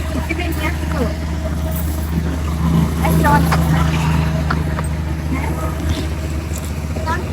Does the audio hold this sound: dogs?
no